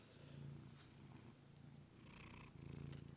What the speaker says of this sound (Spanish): No sé si lo escuchan ronronear.